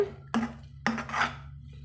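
Utensil scraping and clinking against a pan while chilli chapati pieces are stirred over medium heat, two distinct scrape-and-knock strokes with a steady low hum underneath, close and fairly quiet.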